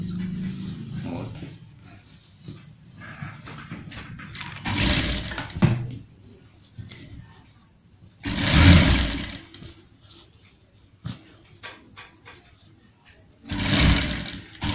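A sewing machine stitches a kali-style kurta in short bursts, its whirring runs loud and close and separated by quieter pauses and small handling clicks.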